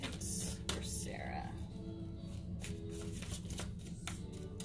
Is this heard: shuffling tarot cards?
yes